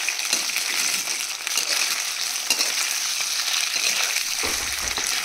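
Soya chaap sizzling steadily in hot refined oil in a pan, a continuous bright frying hiss with occasional stirring clatter, close and alone.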